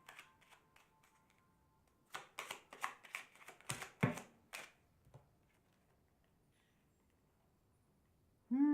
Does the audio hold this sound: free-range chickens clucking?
no